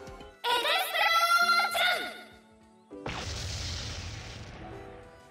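A sudden deep, rumbling blast erupts after a few seconds of tonal, whooshing effects, its broad roar holding loud before slowly fading.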